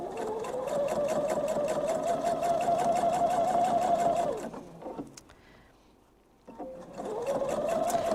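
A sewing machine stitches fabric with contrasting thread in a loud, steady run. It stops briefly, leaving near silence, then starts again, with no voices.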